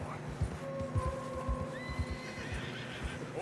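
A horse in Red Dead Redemption 2 whinnies in a long rising call over steady clip-clopping hooves, close and moderately loud.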